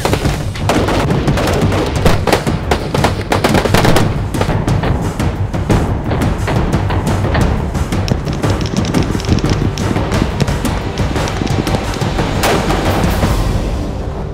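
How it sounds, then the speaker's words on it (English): AR-15 rifles fire thousands of rounds at explosive targets during a night shoot, a dense, continuous barrage of sharp cracks and booming blasts overlapping without pause, loud and close throughout. "Hundreds of explosive targets out there that we just put thousands of rounds down range on."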